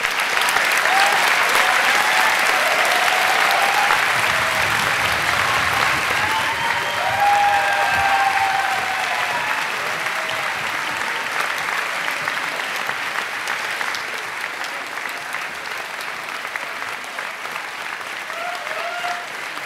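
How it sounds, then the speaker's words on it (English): An audience at a university graduation ceremony breaks into loud, sustained applause that fills the hall for the whole stretch, dense and steady before easing slightly toward the end. "But you're clapping too soon"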